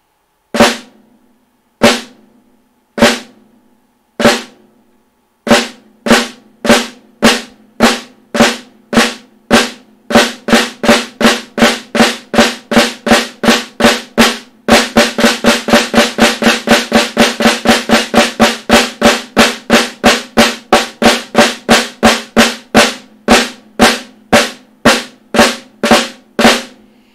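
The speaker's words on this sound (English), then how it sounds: "I'll do a series of left hand flams now, exactly the same way." Sharp left-hand drum flams repeat, starting slow and spaced, then speeding into a rapid, even stream of crisp hits, loud and close.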